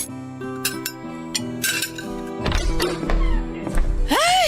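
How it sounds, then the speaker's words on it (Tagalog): Plates and cutlery set down on a dining table at home, a run of clinks and dull thunks in quick succession, close and clear, with a background music tone under them and no speech. "maglagay na tayo ng mga plato at kubyertos dito sa lamesa"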